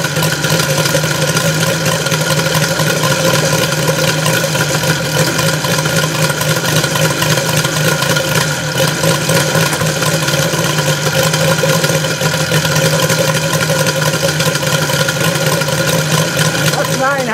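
A Evo 160 engine idles smoothly after an ignition repair, a steady, even running drone that holds loud and unchanged for the whole stretch with no break.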